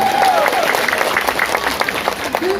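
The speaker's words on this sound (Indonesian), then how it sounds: "tepuk tangan untuk kalian" Wedding guests applauding, a continuous patter of clapping with crowd murmur and some voices mixed in, fairly close and loud throughout.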